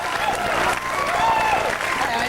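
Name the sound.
studio audience applause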